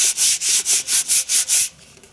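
A rough-textured container, dotted with tiny bumps, is rubbed in seven quick back-and-forth strokes, a close, loud, hissy scratching rhythm that stops abruptly near the end.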